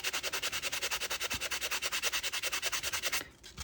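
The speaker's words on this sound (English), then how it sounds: "So if I sand him on the back" Rhythmic hand sanding on the back of an eco-resin tealight holder, quick regular strokes rasping back and forth close up for several seconds, then a brief pause before one more stroke.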